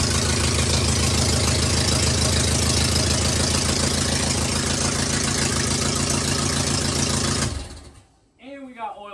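A car engine with a loud header cranks for the first time and runs, a dense, very loud rumbling roar that holds steady and then cuts off abruptly, followed by a voice speaking.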